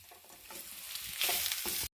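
Potatoes frying in a pan with cumin powder and meat masala, a close, steady sizzle with stirring scrapes that swells louder toward the end before cutting off abruptly.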